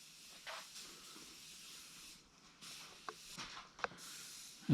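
Lubricant spray hisses in short bursts around the pinch weld of a Vanagon windshield opening, a steady near aerosol sound with a few brief louder spurts and clicks toward the end.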